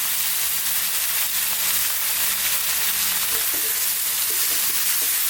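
Tomatoes with turmeric, chili and coriander powders frying over high heat, with a dense, continuous close sizzle and soft stirring scrapes throughout and no talking.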